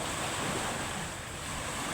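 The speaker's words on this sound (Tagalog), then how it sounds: "Kaya malakas talaga yung amihan." Strong northeast monsoon wind over open sea at a seaweed farm, a loud continuous roar of gusting wind and breaking waves buffeting the microphone, with no voices.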